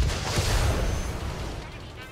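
An SS-11 missile launched from an AMX 13 SS-11 tank in World of Tanks, one loud booming blast whose rumble decays over about two seconds.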